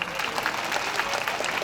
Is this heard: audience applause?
yes